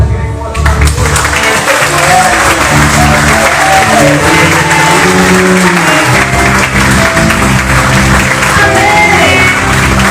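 A church congregation applauding during a worship service, dense loud clapping mixed with cheers and shouts, with voices and music-like tones running underneath throughout.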